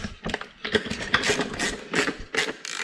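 A socket ratchet works on fasteners while installing a Kemimoto fang and signal kit, giving quick repeated clicking strokes in short bursts, close and moderately loud, with no talking.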